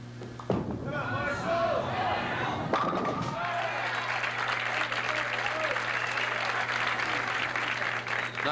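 A bowling crowd at the 1978 Miller High Life Open applauds a strike, with pins clattering and then a swelling wave of moderate clapping beneath a commentator talking.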